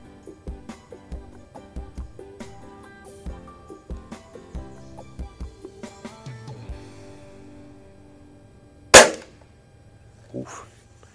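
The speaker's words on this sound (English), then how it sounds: "I am shooting at 25 yards here, so pretty good stretch for Springer pellet gun" A spring-piston pellet air rifle fires target pellets at 25 yards: a series of sharp, close clicks and mechanical knocks spaced unevenly, then one loud crack and a fainter shot near the end, with no talk.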